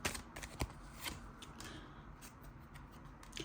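Tarot cards shuffled and drawn by hand, a soft papery riffle with a few sharper snaps and flicks, close and fairly quiet, no one talking.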